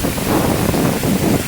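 Strong wind gusts in southern Thailand buffet the microphone, a brief, loud rushing roar that stays steady and close throughout.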